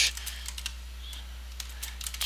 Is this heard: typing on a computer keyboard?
yes